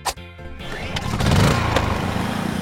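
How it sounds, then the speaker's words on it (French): A petrol generator powering a freezer is pulled into life with a short burst and sputter, then settles into a steady close engine drone that holds on without any talk. "on doit allumer le groupe électrogène"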